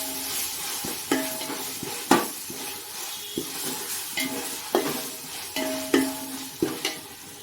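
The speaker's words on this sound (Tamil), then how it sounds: "இஞ்சி பூண்டு பேஸ்ட்டு போட்டு நல்லா வதக்கிக்குங்க." Ginger garlic paste sautéing in a hot pan for mushroom biryani, a steady sizzle broken by repeated scraping stirs of a spoon against the pan, close and moderately loud.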